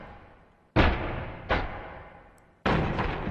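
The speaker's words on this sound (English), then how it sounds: "these are all panning to try to match where the cannons are all hitting in the picture" Cannon impacts in a Pirates of the Caribbean: At World's End battle, heavy booming hits with long reverberant tails, the first followed by a softer second and a sharp third, each decaying slowly as if in slow motion.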